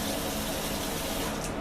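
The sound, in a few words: tray being filled with warm water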